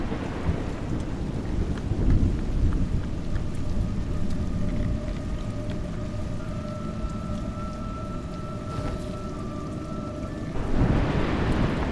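Steady heavy rain pours through a thunderstorm in the video game A Juggler's Tale, with low rumbles of thunder and a sustained tonal hum partway through, the downpour swelling again near the end.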